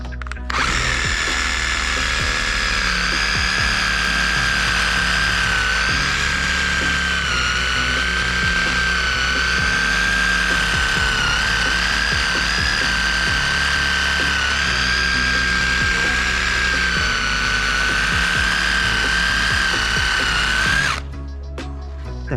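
A reciprocating saw with a Milwaukee blade buzzes steadily through wood, loud and close, running continuously for about twenty seconds before cutting off abruptly.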